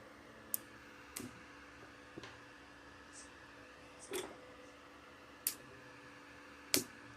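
A SINEBE NBC-250SV semi-automatic welder having its metal casing opened, with sparse close clicks and small metallic ticks, like screws being undone, spaced a second or so apart over a low steady hum.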